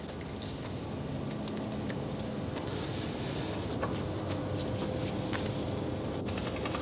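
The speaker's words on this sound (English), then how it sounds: "Vela pulsar is in a supernova remnant." Vela pulsar radio signal turned into sound, heard as a continuous dense hiss of broadband static with faint rapid ticking pulses throughout, steady and alone with no voices.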